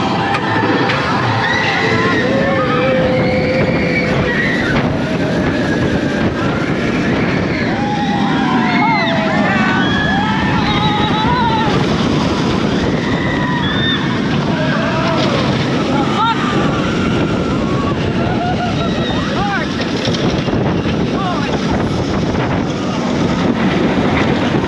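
Riding the Manta roller coaster at SeaWorld Orlando: constant heavy wind roar and rushing rumble from start to finish, with faint crowd voices and screams mixed in.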